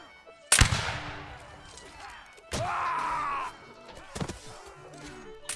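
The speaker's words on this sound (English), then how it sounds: "They're firing canister at me." A cannon fires canister shot during a siege battle game, with sharp, loud blasts that decay into rumble, one near the start and another around the middle, along with clanks and shouts in between.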